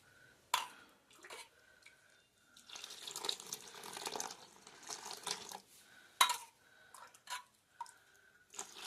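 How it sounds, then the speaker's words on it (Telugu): Hot water is poured onto butter in a bowl while making Sankranti sakinalu, heard as several short splashing pours with pauses and a few clinks in between, close and moderately quiet. "కొంచెం ఇట్లా బటర్ వేసుకొని ఇందులో వేడి నీళ్ళు పోస్తే ఈ బటర్ కూడా కరుగుతుంది మంచిగా"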